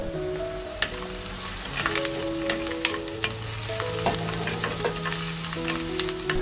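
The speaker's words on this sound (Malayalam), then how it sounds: "ഇഞ്ചിയും വെളുത്തുള്ളിയും ഉള്ളിയുമെല്ലാം വെളിച്ചെണ്ണയിൽ കിടന്ന് നല്ലപോലെ മൂത്ത് വരുന്നതാണ്" Ginger, garlic and onion sizzle steadily in hot coconut oil for a fish curry, with a continuous close frying crackle and occasional sharp clinks of a spoon stirring the pan, no voices.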